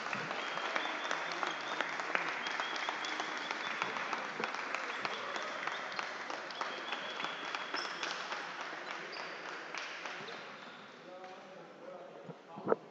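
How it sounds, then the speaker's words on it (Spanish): Sustained applause from a crowd at a basketball final series award ceremony, dense and steady clapping that slowly fades toward the end. "Un fuerte aplauso, mi gente."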